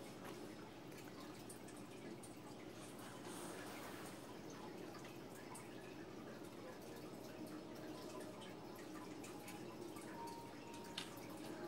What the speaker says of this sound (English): if you guys hear that noise in the background, that's just my fish tank.